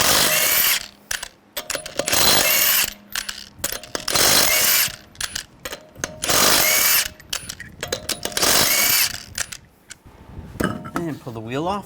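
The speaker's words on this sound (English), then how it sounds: "take the lug nuts off." Lug nuts are taken off a 2014-2019 Toyota Corolla wheel with a 21mm socket on a power tool: several loud bursts of rattling impact whirring, separated by short pauses and metallic clinks, with no talking.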